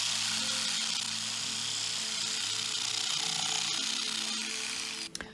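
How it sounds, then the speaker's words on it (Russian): Electric jigsaw cutting the ends off wooden bars for a cat house, a steady loud buzzing rasp running without pause before cutting off with a few knocks at the end. "И теперь электролобзиком мы попробуем кончики отрезать."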